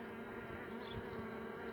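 Thousands of honeybees hum in a dense, continuous buzz, filling the air steadily while a colony is moved out of a chimney into a hive box; the drone stays moderately faint and even throughout, with no voices.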